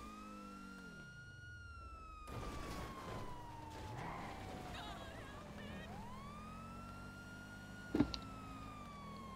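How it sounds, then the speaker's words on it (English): A police siren in the video game GTA Online wails, rising and falling under engine drone, shifting pitch as it sweeps, with a sharp thump near the end; fairly faint overall. "You hear the sirens from a mile away"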